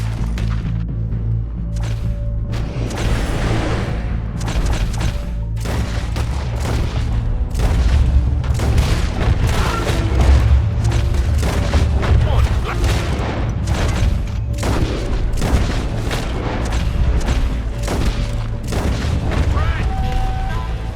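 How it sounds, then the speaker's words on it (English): Heavy gunfire and booming shots in a Red Dead Redemption 2 shootout fill a dense, continuous scene of cracks and blasts, with voices mixed into the din. "We're shooting our way out of here."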